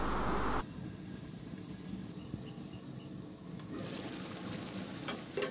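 Koi fish cooking in oil in a pan gives a soft, steady sizzle. The noise changes abruptly near the start and again midway, staying fairly quiet throughout.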